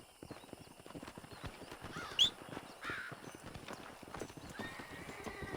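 Horse hooves clip-clopping along at a steady walking pace in Red Dead Redemption 2, a close, even rhythm of light hoofbeats with a brief snort or whinny partway through.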